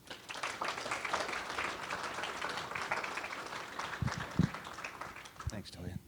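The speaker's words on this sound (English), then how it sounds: "Please give David a round of applause." Audience applause for a keynote speaker at a college poetry event, a dense steady patter of clapping from a seated crowd that holds across the room, with a few louder claps and a murmur of voices near the end.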